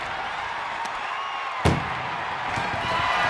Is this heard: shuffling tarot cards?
no